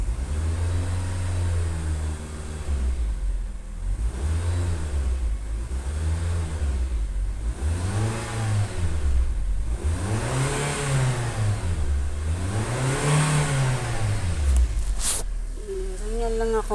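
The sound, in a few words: car engine revving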